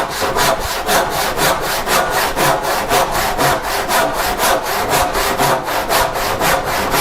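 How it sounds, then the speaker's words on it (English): Left-handed handsaw cutting through wood for rough cabriolet furniture legs, a steady fast rhythm of rasping back-and-forth strokes, close and loud throughout with no talking. "So I'm cutting it with the handsaw at the moment"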